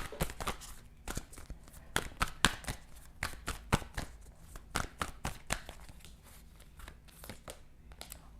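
Oracle cards are shuffled by hand in a steady run of quick, crisp riffling slaps, close and fairly quiet, with no talking over them.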